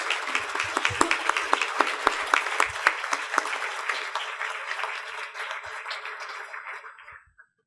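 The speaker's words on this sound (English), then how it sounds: "Let's give it a round of applause." An audience at a rural awards ceremony gives a round of applause, with distinct claps that start strong and then thin out and fade to a few last claps.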